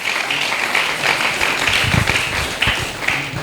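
Congregation applauding at an Easter Sunday church service, a steady wash of clapping from many hands filling the room, fairly close and sustained throughout.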